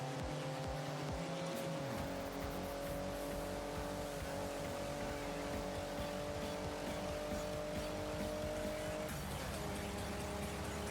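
A DeLorean in the Forza Horizon racing game drives laps with a sustained engine drone that shifts pitch as it changes gear, continuous and loud from start to end, with tire noise and no talk.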